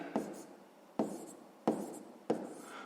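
A pen writes on paper in four short, distinct strokes roughly half a second to a second apart, close and quiet, each a brief scratchy onset trailing off.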